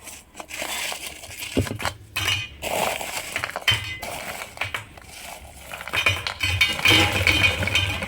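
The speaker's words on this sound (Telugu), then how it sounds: "పాకం వేసి బాగా కలుపుకుందాం." Gavvalu are stirred into jaggery syrup in a metal pan, producing repeated close scraping, clinking and crunching of the spoon against the pan and the crisp pieces in an irregular rhythm.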